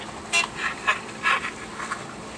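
Several short car horn toots in a quick irregular series, a few moderately loud blasts and some fainter ones, heard at a distance over low background noise.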